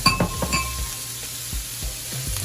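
Mango, cucumber, cilantro, jalapeno and scallion tossed together in a bowl, with a few soft clinks and wet mixing thuds close by, no voice.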